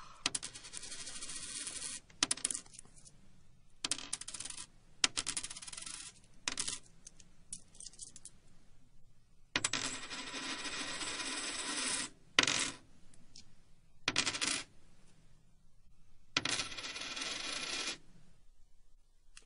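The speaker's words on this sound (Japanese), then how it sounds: "小銭を 回そうとしてる音" Coins are spun and rattled on a hard surface in repeated bursts of metallic whirring that wind down, separated by short quiet gaps.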